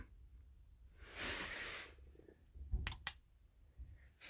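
A wireless radio-frequency light switch being pressed while pairing it for two-way control. It gives a couple of quiet, close clicks in quick succession after a soft rustle, in an otherwise hushed room.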